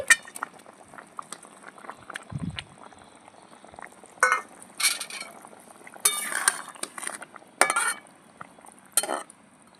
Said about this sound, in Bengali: আলু সেদ্ধ হয়ে গেছে ভেজে রাখা মাছগুলো আমি দিয়ে দিচ্ছি